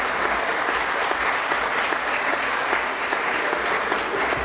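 Applause from many people in a parliament chamber: dense, steady clapping that carries on evenly for a few seconds with no break.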